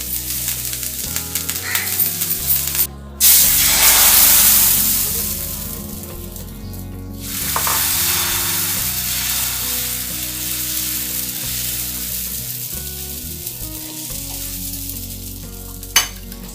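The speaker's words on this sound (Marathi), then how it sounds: "तवा गरम झाला की यावर असं तेल पसरवून टाकायचं यावर पाणी याप्रमाणे शिंपडायचं" Water sprinkled onto a hot, oiled griddle prepared for a barnyard millet dosa bursts into loud, close sizzling, flaring sharply a couple of times and then settling into a steady frying hiss that runs throughout.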